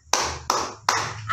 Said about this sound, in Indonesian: saya punya satu tepuk, yaitu tepuk ibu dan anak